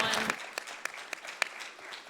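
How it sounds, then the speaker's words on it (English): Sparse audience applause at a Housing 101 conference learning-lab session, a few scattered, faint claps over a couple of seconds in a quiet room. "You already gave her a round of applause. Let's give her another one."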